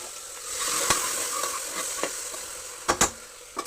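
Onions, tomatoes, coriander and turmeric frying in oil in a pan on a stove, a steady close sizzle with a few sharp stirring scrapes near the end.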